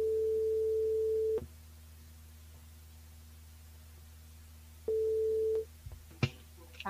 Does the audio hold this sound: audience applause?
no